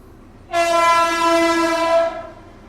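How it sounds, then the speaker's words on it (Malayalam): A MEMU train sounds a single long, loud horn blast close by that holds for about a second and a half and then fades, with no talk. "സടുകുട തീവണ്ടി, മെമു വണ്ടി എന്ന് തോന്നുന്നു"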